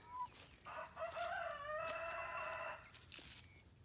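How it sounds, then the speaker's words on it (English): Rooster crowing in a backyard coop, one long drawn-out crow that rises and holds, with brief clucks from young chickens and hens before and after it. The bird sounds fairly close and nobody speaks. "we have our smaller, our younger chickens, 2 roosters and a couple hens"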